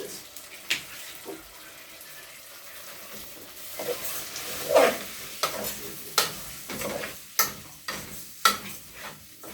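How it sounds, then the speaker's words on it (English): Pilau in a pot with tomato sauce stirred in, giving a soft background sizzle broken by a series of sharp scraping and clinking strokes that come louder and more regularly toward the end. "And then I stir a bit."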